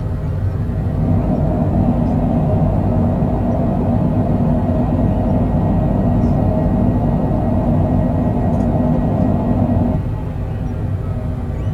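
Cessna Citation Longitude thrust reversers roaring after landing in a flight simulator game, a loud, dense, low-heavy rumble that holds steady for about ten seconds and then eases down as the reversers stow.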